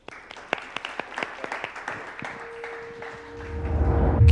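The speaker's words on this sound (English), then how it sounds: "Clap for these guys." An audience at an imposter syndrome panel gives a burst of scattered clapping for the panelists, loud and crisp at first, then thinning out into room hum and a low rumble.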